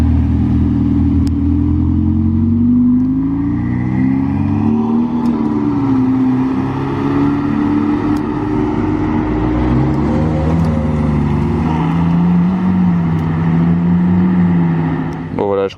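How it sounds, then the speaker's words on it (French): Ferrari supercars, including an 812 and 488s, pull away from a Monaco gathering, with loud, close engine notes rising and falling through revs over a continuous roar and a sharp blip at the end. "On va encore avoir le droit au départ de 3-4 autres Ferrari"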